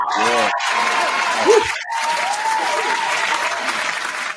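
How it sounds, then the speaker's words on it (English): An audience applauding for Willie Rowe at a live show: dense clapping and some crowd noise through the whole stretch, fairly loud and close, with a voice briefly heard over it and a couple of short gaps. "The round of applause for Willie Rowe in the building."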